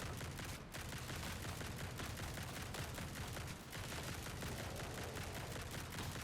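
Shotgun blasts ring out in the video game Grind Survivors as rapid repeated bursts over a dense, busy game soundtrack, fairly quiet overall and continuous throughout.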